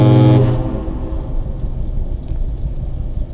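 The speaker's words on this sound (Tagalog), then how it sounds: "Sulit yung busina." A single loud, brassy motorcycle horn blast from a Husqvarna Svartpilen 401, close by, cutting off after half a second into a low road rumble.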